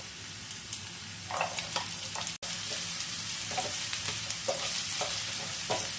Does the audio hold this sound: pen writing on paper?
no